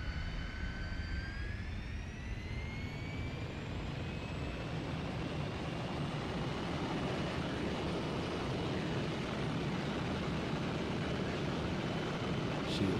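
Lockheed T-33 Shooting Star jet engine in the MSFS2020 flight simulator throttled up on takeoff, a loud continuous roar with a whine rising in pitch over the first few seconds, then holding steady.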